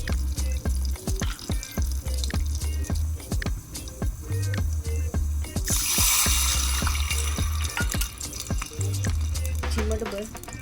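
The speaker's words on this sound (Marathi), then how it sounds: "अर्धी वाटी पाण्यात साखर विरघळत ठेवली होती ती ओतून" Sugar dissolved in half a bowl of water is poured into a hot crackling tempering for khaman dhokla, a sudden sizzling hiss bursting up mid-way amid kitchen clatter and quiet talk.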